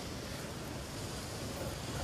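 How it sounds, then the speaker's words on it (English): Waterfall spilling down a rock face on a climbing route, a steady broadband rushing roar filling the whole clip with no pauses. "Got a bit of waterfall coming down here at the moment."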